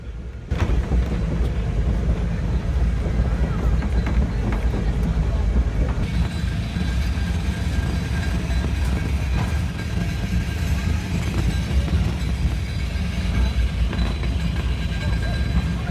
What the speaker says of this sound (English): This is the Cog Railway's passing track, where trains traveling up and down the mountain safely pass each other.